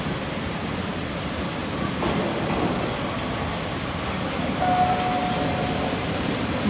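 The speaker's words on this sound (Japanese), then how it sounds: "2番線に列車が到着いたします。" A train pulls into platform 2 at a Japanese station with a steady rumbling roll and wheel noise, a brief high squeal partway through, all fairly close and continuous.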